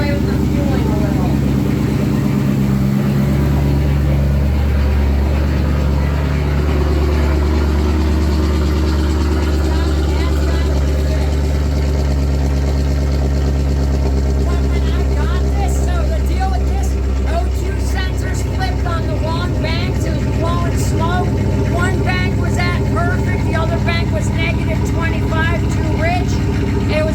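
A Ford F650 truck's engine, paired with an Allison transmission, runs steadily with a loud, continuous low rumble for the whole stretch, while a person talks over it.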